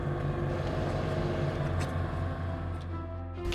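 Engine of a 2011 Porsche Panamera 4S, a crashed car being driven to a sales lot, droning steadily with a low, even hum that stays constant throughout, close and alone without talk.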